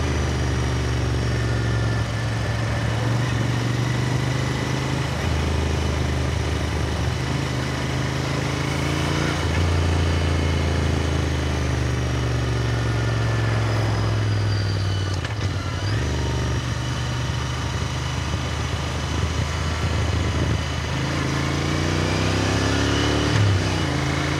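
A Royal Enfield Interceptor 650 motorcycle is ridden at moderate speed, giving a steady, loud engine drone mixed with wind noise, with slight rises and dips in pitch throughout and no talk.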